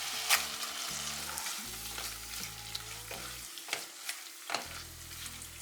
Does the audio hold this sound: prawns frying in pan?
yes